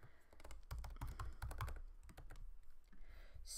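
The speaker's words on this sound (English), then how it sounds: "So I type something in here." Continuous close-up typing on a computer keyboard, a dense flurry of keystrokes with a few brief pauses, some heavier thumps among lighter clicks, and no voice.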